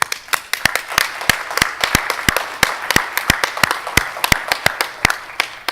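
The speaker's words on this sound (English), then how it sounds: "I just want to give everyone a round of applause." Sparse audience applause at a higher-education research presentation, distinct individual claps in an uneven, fairly quick rhythm over a soft room hum, steady throughout.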